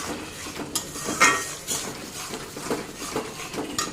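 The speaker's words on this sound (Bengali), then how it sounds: "লঙ্কা গুঁড়ো ভালো করে ভেজে নেব এই দেখো ভালো করে ভেজে নিতে হবে একদম" Chili powder frying in a pan while cooking a katla fish dish, with a soft steady sizzle under repeated scraping and clinking of a spoon against the pan, fairly close.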